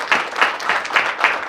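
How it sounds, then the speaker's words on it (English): An audience at a diabetes research foundation and university partnership celebration claps in a brisk, even rhythm, with bursts of hand claps repeating several times a second in a short, close stretch. "Please give them a round of applause."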